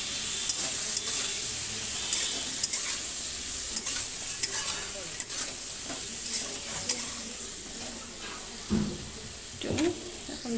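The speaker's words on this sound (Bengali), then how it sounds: "এখন ভালো করে নাড়াচাড়া করে একটু ভেজে নেব।" Vegetables stir-fried with salt and turmeric in a pan sizzle steadily while a utensil scrapes and stirs them in irregular strokes, close and fairly quiet.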